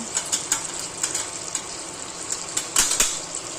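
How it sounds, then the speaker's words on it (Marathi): Spices hit hot oil in a pan for a homemade prawn curry, making a steady, close sizzle punctuated by sharp spoon and pan clicks, with no talk. "इकडे बघा आता मसाले टाकते मी"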